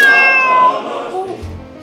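A cat meows close and loud in one drawn-out, wavering cry that fades out, with a low rumble underneath toward the end.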